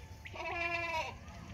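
A Rajanpuri male goat gives one wavering, nasal bleat lasting about a second, close and clear over faint background noise.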